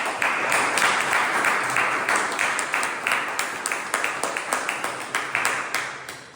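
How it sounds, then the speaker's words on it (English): Audience applause at a Toastmasters club meeting, a steady wash of many hands clapping, moderately loud and close, holding for several seconds before tapering slightly at the end. "Let's give a big round of applause for that."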